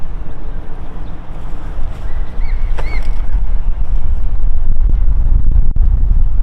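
A strong outdoor headwind buffets the microphone during disc golf throws with constant loud rumbling gusts and a few faint higher tones underneath.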